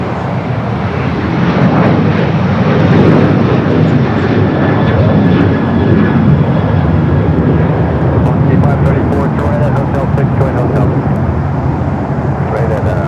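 A United airliner takes off from runway 25 right at LAX, its engines roaring loud and steady throughout, with distant road traffic and radio chatter underneath.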